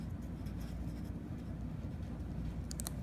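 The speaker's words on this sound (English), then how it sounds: "Here, I'll write down laws." Laws being written on a board during a classroom lesson, a continuous faint scratchy marker or chalk sound under a low room hum, with a few sharp taps near the end.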